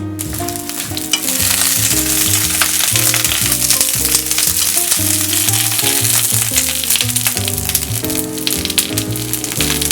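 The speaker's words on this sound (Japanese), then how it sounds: "まずネギを炒めます。" Green onions stir-fry in hot oil for a mutton miso steak made from a 1966 recipe, giving a steady, bright sizzle that runs throughout under loud background music.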